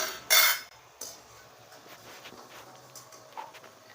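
Fried modaks being lifted out onto a plate: one loud metallic scrape of a utensil at the start, then a softer clink and faint light clatters fading out.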